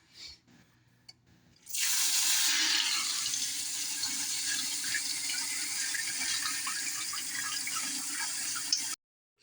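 Dried split peas being rinsed under a running kitchen tap, a steady close rush of water filling and splashing for most of the clip after a few faint handling clicks, then cutting off abruptly.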